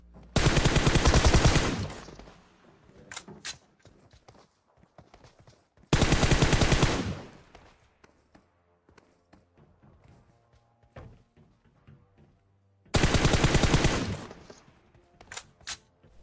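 Three long, loud bursts of rapid automatic gunfire in PUBG Mobile, evenly spaced, with scattered single shots and thuds between them.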